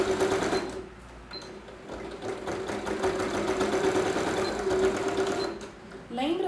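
Domestic sewing machine stitching a seam on a child's zippered toiletry pouch, running in a steady mechanical whir for most of the stretch, pausing briefly and starting again near the end, with faint talk under it.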